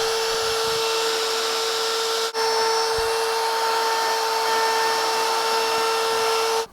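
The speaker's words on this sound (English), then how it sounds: "I'm going to take my circle cutting jig with the 1/16 inch bit, and I'm going to plunge a 1/16 inch down and create just a small groove" A router fitted with a 1/16 inch bit in a circle cutting jig plunges a shallow groove around a tabletop, giving a steady, loud high-pitched whine that runs almost continuously, broken by one brief dip.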